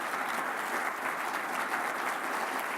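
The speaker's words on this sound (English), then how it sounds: "let's give them a huge round of applause" A large audience applauds at a Rotary Club teacher-of-the-year awards event, producing a steady, even wash of clapping that holds constant from start to end, moderately distant.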